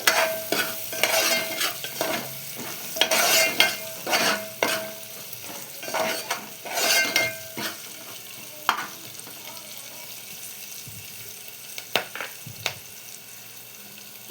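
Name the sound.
stirring tempering with turmeric in a pan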